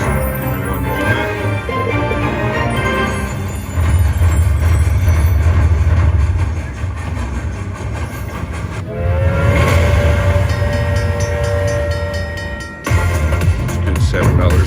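Train sound effects from a Railroad Riches slot machine in a casino, a rumbling rail clatter with a long sustained whistle tone midway, loud over a noisy machine soundtrack with talk mixed in.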